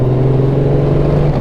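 The big touring engine of a Honda Gold Wing GL1800 motorcycle drones loud and close with a steady low tone, ridden in sport mode in rainy afternoon traffic.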